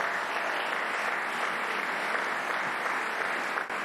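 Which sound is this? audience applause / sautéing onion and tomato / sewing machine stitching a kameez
audience applause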